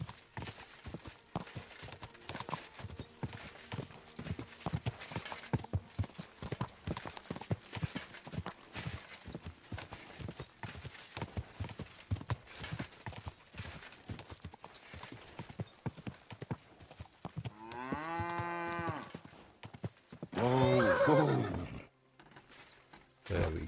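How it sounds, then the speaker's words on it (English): A horse's hooves clip-clop at a steady trot in the Kingdom Come: Deliverance 2 video game, a long rhythmic run of close hoofbeats that ends with a horse neighing, with a voice briefly heard. "She's my horse."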